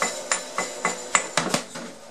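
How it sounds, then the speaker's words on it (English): An Eimac 3-400Z triode vacuum tube is hammered inside a trash can, giving about seven sharp metallic strikes spaced unevenly over two seconds, each a bright clanking crack with a short ring, loud and close. "I'm going to whack it with a hammer so you can hear it explode."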